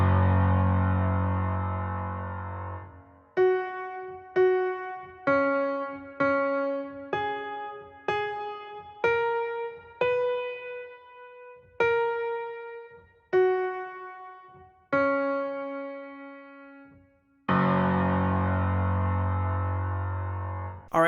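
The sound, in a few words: piano right-hand intro of a song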